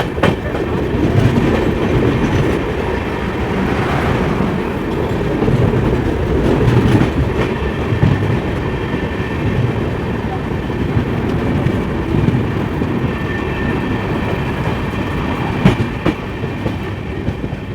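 The Ganga Sutlej Express rolling slowly, heard from inside a sleeper coach: a continuous rumble with steady clickety-clack of wheels on rail joints and faint squeals, loud and close throughout, with no talk.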